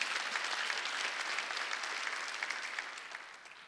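A church congregation at a Sunday worship service claps together in a dense, steady round that fades slightly toward the end, with no speech on top.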